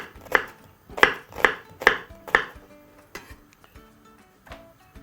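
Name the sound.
knife chopping onion finely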